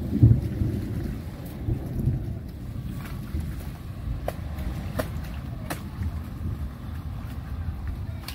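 Rain falls steadily at a construction work site under a low, rumbling roar of distant thunder, with lightning flashing and a few sharp drips or taps standing out.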